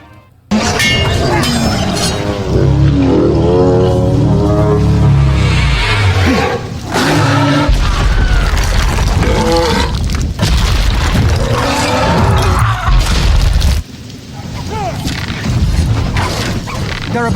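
Orcs batter and smash a barricade in the LOTR The Two Towers video game, with loud booming crashes, shattering impacts and roaring battle din filling a sustained, dense stretch.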